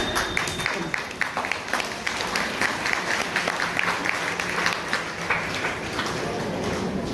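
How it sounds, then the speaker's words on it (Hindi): An audience at an AWPL training session in Raj Mahal Place, Mahoba, claps steadily in loud, dense applause that lasts the whole stretch. "स्वस्थ रहना है तो तालियां बजाते रहेंगे"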